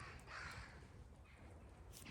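Crows caw in woodland, several calls spread across a short stretch over steady low rumbling background noise, fairly distant and moderate in level.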